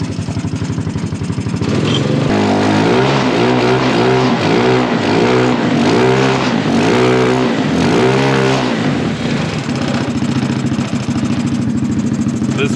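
A go-kart buggy engine with its muffler packing removed revs hard under repeated throttle blips, loud and raspy, while loose parts rattle on the floor; the engine idles roughly before and after the revving.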